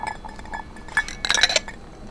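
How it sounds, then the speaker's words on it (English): Ice cubes clink into a whiskey glass, with a few light knocks followed by a quick, bright cluster of glassy rattles, close and moderately loud. "Add our ice to our whiskey glass."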